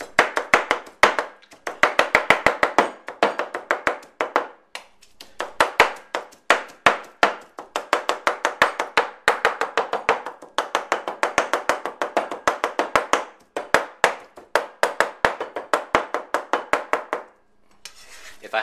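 Knife chopping pork on a chopping board, rapid rhythmic sharp taps in bursts with brief pauses, close and crisp, no talking.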